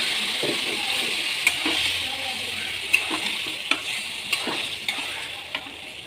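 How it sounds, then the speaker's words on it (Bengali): Boiled bottle gourd sizzles and fries in a pan, a constant hissing bed broken by sharp scrapes and taps of a spoon stirring every second or so, close up. "সেদ্ধ করা লাউ দিয়ে দিলাম।"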